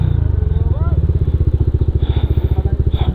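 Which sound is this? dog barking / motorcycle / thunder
motorcycle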